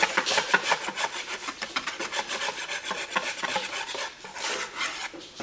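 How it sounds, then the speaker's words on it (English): Flour is whisked briskly in a bowl for snowflake biscuits, making a continuous dry scratchy rubbing with quick repeated strokes, close and fairly loud with no talking. "take your flour and whisk it. You can either use a sifter or a whisk."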